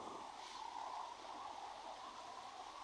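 Steady rushing floodwater flows continuously at a fairly even level through a burial ground in Goregaon, with no voices.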